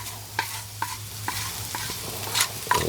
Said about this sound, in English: let that continue to slowly saute